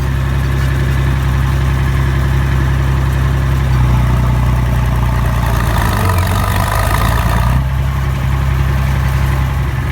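An IH Farmall 560 tractor engine running under load with the brake applied, a loud, steady low drone whose pitch dips and labours briefly before recovering.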